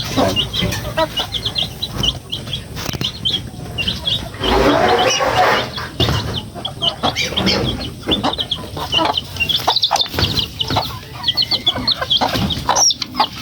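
Rhode Island chickens and other fowl cluck and call steadily at a feeding area, with scattered bird chirps and occasional thumps over a busy, continuous outdoor background.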